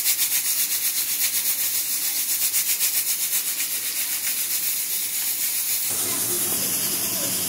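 A pressure cooker releases steam in a loud, pulsing hiss that turns into a continuous rushing whistle after a few seconds, close by in a home kitchen.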